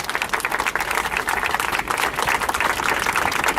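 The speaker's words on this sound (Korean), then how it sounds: "박수 한번 하겠습니다." Audience gives sustained, dense applause at a student hunger-strike press conference over the Sewol ferry disaster, with steady clapping throughout and no speech.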